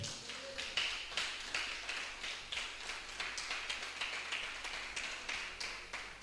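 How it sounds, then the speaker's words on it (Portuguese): A church congregation at a Bible study claps in a steady, regular rhythm. The beats are evenly spaced and quiet, with a low hum running underneath. "Dá uma salva de palmas para Jesus aí"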